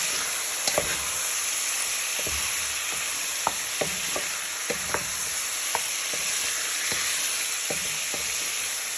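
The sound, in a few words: stirring smoked paprika into sizzling chicken in pan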